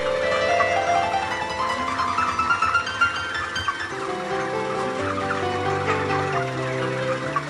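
A crowd of broiler chickens ready for harvest clucks and chirps continuously, a dense flock calling close by with no talking.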